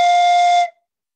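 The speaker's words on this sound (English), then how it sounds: "Now the whistle blows." A single shrill whistle blasts loudly for under a second, then cuts off into silence.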